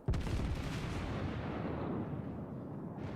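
A heavy battleship salvo in the World of Warships naval game opens with a sudden loud boom, then a long rumbling roar that slowly fades over a few seconds.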